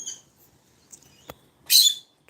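A pet bird indoors gives a few short, sparse chirps, faint and spaced out, ending with a sharper, louder squawk-like burst near the close.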